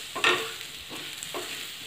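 Raw green mango pieces with salt are stirred in a pan over a low flame, three soft scraping strokes over a faint steady sizzle, close and quiet, with no talking.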